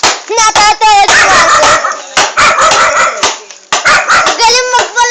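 Rapid, loud bursts of excited dog barking and yelping close by, in clusters with short pauses between them.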